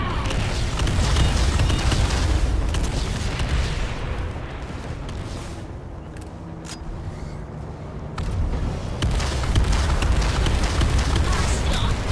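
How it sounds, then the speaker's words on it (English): A frag grenade detonates in a video game battle, a loud booming blast with a long rumbling tail amid dense continuous combat noise, fading briefly before the din swells again. "Tossing a frag!"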